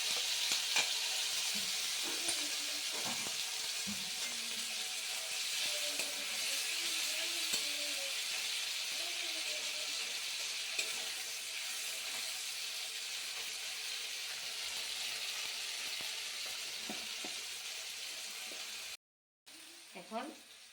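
Ginger and green chili paste sizzles and fries in a pan on a home stove, a steady close hiss with occasional stirring scrapes while someone talks over it.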